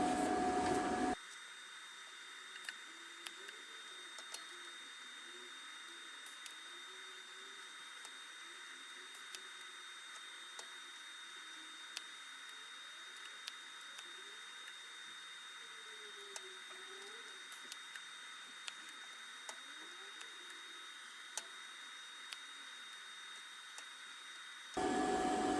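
Tack welding a hood exit for a turbo Civic with shielding gas at 35 CFH: a steady, even electrical hiss and buzz runs unbroken for about 23 seconds, then cuts off abruptly.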